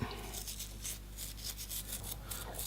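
A brush sweeps dirt off the jaws and guides of a wood lathe scroll chuck, making quick rhythmic bristly scrubbing strokes, close and soft, repeated several times in succession.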